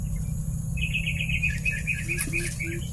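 Birds calling in a horror video game, a run of quick high chirps and trills over a steady low hum, with a few lower whistled notes joining near the end.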